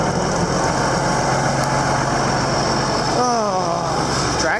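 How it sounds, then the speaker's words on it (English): A steady, loud tractor engine runs throughout with a constant low rumble and no letup. "Tractor's running great though."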